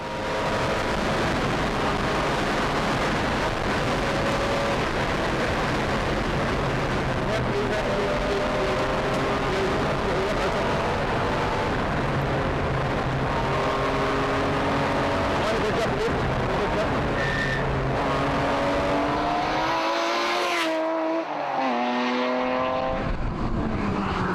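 Rally car at Targa New Zealand roaring past at speed, engine note rising and falling through the gears and sweeping by loudly, then cutting away abruptly, with a commentator talking over it.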